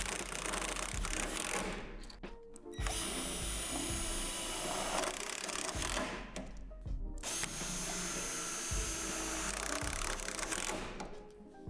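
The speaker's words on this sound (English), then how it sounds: "make sure that your drill is fully charged and on the highest torque setting" Cordless drill on high torque driving screws through a plastic frame pad into the metal frame beneath during assembly of a Lifetime Portable Quick Adjust II basketball hoop, with steady whirring bursts broken by short pauses, fairly close.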